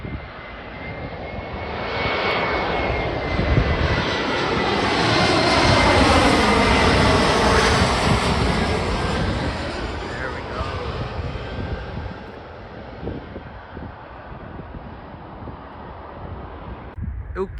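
An Air Canada Express jet landing at Newark Liberty International Airport, its engine roar swelling as it approaches close by, peaking loudly overhead, then easing into a steady rumble with wind noise on the microphone.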